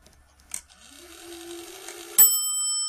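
A Zaandam clock movement being refitted into its case strikes once at the half hour: faint mechanical whirring builds up, then a single clear bell stroke rings out and sustains with a long, bright decay.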